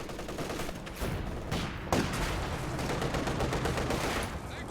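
Incoming fire in a World War II strategy game, a dense burst of gunfire and machine-gun rattle with sharp cracks, loud and continuous for several seconds.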